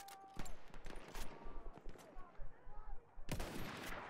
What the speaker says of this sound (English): These explosions gotta stop.